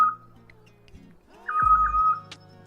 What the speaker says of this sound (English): I'm so sorry for the chirping sounds, everybody.